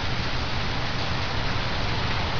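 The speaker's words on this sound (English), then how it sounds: "It's not windy, but it's raining still." Steady rain falling, a dense, even hiss of drops without pauses, close and moderately loud.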